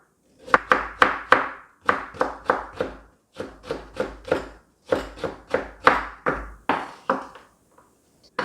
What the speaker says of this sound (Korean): 부추를 이렇게 썰어 주시고, 당근 채 썰어 주세요.